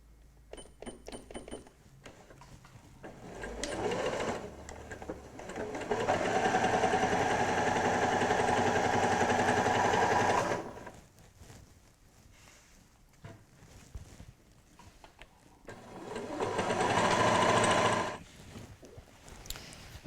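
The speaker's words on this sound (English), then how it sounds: "I'm going to sew the side seams. So I just sew from the top down to here." A sewing machine stitches the side seams of a tote bag in two long steady runs, close and fairly loud, separated by a pause with small handling noises.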